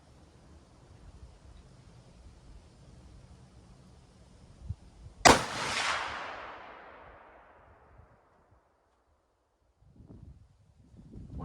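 A 13.5-inch AR-10 rifle fires one .308 round over a chronograph outdoors, a single sharp, loud report followed by a fading echo and then quiet, with faint handling noise afterward.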